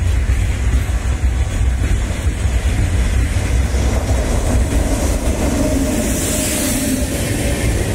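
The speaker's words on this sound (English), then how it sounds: "Express train also coming in the same direction." An Indian express train hauled by an electric locomotive rolls past close by, a loud steady rumble and rail roar lasting throughout with faint clickety-clack of wheels.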